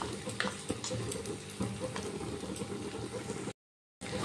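Pumpkin curry with cumin powder and sour yogurt sautéing over a low flame in a pan, a soft continuous sizzle and bubble with faint stirring clicks, heard closely and quietly, with a brief dropout near the end.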